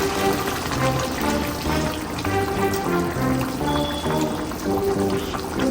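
Coconut milk pours steadily into a pot with a continuous trickling, splashing texture, close and fairly loud, with no voices.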